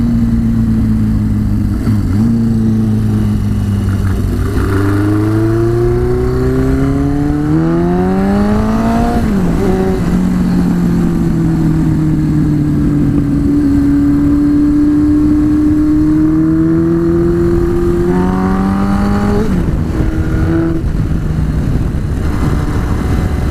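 The Basket Case motorcycle's engine runs loud and close throughout, its pitch climbing and falling through gear changes as it is ridden, with no talking.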